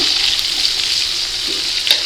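Onions and coriander sautéing for chicken biryani give off a steady, close frying hiss with faint stirring movements underneath.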